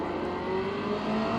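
A race car engine at Phillip Island in the iRacing sim holds a loud, steady high-revving drone, with a rising whine over a brief moment and no voices.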